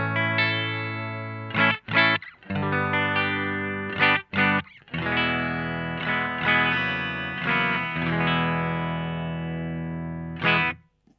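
Clean tone from a Fender Stratocaster running through a Menatone King pedal into a cabinet simulation: ringing chords and single notes with sustained overtones, separated by brief pick attacks and short pauses, loud and close with no voices.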